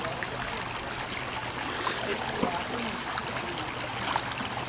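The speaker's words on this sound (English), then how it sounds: "I found myself a nice stream" A clear, moving woodland stream in the Black Hills burbles and trickles steadily and close by, a continuous wash of flowing water with no pauses.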